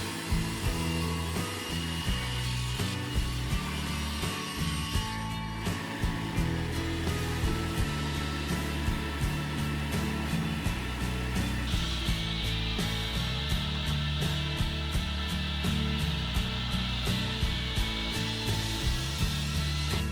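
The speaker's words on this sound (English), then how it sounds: "the substantial blades slice through the tough salt rocks" A loud, continuous grinding whir of large spinning blades cutting hard Himalayan pink salt rock in a mine, with rhythmic rasping pulses and a harsh high hiss throughout.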